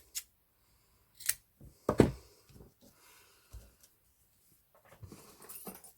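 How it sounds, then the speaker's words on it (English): Scissors snip frayed ribbon for a hair bow, a few sharp separate cuts spaced over several seconds in a quiet room, close and clear with soft handling noise between. "I just can literally wrap it to my template and cut as I'm going. So just trim that little bit of fray off."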